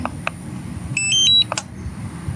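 A drone remote controller switching on gives a quick run of clear electronic beeps and a short rising tone sequence, loud and close, with faint clicks around it and no talking.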